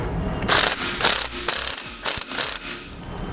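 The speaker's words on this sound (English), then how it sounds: "Use a wrench to hold the bolt in place, and we'll drive it down with our socket." A socket ratchet drives a bolt down while a wrench holds it, mounting a trailer brake breakaway switch on a 2016 Ford Taurus: five or six close, loud bursts of rapid ratcheting clicks with short pauses between them.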